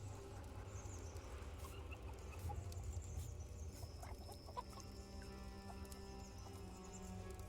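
Chickens bought in the medieval game Pillars of the Earth cluck softly in the background, intermittent faint fowl calls over a steady low ambient bed, with no talking.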